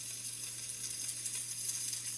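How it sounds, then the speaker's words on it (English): Salmon fillet searing in a hot pan on a stovetop eye, a steady soft sizzle and hiss running evenly throughout with a low hum underneath, fairly quiet and without voices. "Just got through searing one side."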